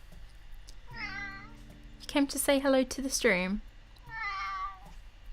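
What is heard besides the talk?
cat meowing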